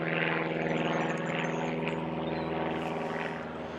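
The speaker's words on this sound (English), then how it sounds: "that's a noisy plane" A loud propeller plane flies low overhead above a residential street in St Annes, its steady droning engine roar filling the whole stretch before easing off slightly at the end.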